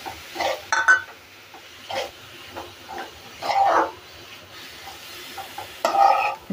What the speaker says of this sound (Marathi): सगळ्या आपल्याला भाज्या अशा बॉईल म्हणजे परतून घ्यायचे, त्यांचा कच्चेपणा जाईपर्यंत आपल्याला ह्या परतायचे